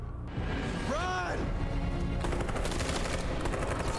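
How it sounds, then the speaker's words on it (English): Police in Detroit: Become Human open fire in a sustained burst of overlapping gunshots, loud and continuous after a brief rising sweep, with chaotic crowd noise beneath. "So the cops just opened fire."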